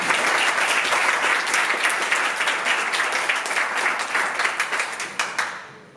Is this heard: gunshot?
no